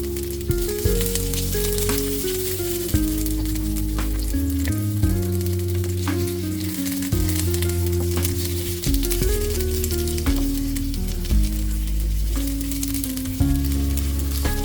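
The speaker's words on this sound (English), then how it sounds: "So just fry the onion for about 3 to 4 minutes." Onion frying in oil in a pan gives a continuous hiss and sizzle throughout, with a steady background melody of music playing over it.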